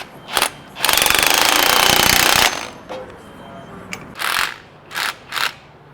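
A wrench tightens an alignment adjustment on a 2022 Ford F450 with an 8-inch lift, giving one sustained loud mechanical rattle of nearly two seconds, then a few short, sharp bursts.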